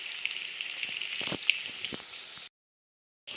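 Chicken pieces frying in a pan for a home-style chicken curry give a steady, close hiss and sizzle with faint crackles, ending abruptly in silence before the sizzle briefly returns.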